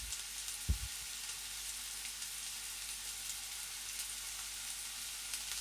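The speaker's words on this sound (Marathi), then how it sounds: "कांदा छान खरपूस भाजून घ्यायचा आहे आपल्याला." Finely chopped onion fries in a pan toward a golden, well-browned colour for a spicy dry chicken dish, giving a steady soft sizzle throughout with one brief low knock near the start.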